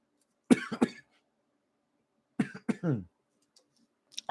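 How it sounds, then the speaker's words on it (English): Three separate bursts of harsh coughing from one person, a pair of quick coughs, then a pause, then a longer pair, close and fairly loud against an otherwise quiet indoor room during a live employment-law question session. "This cough is getting me."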